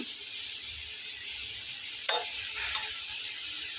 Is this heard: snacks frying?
yes